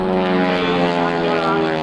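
Red Baron Squadron aerobatic airplanes performing at the 2002 NAS/JRB Willow Grove Air Fest give a loud, steady propeller-engine drone that holds evenly without a break.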